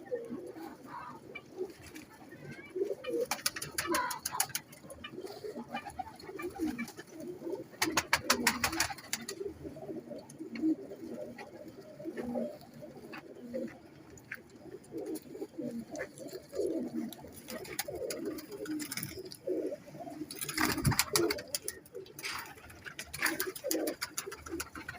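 Pigeons coo softly and repeatedly in a loft holding many birds, with wing flutters and rustling bursts scattered through and a faint voice at times.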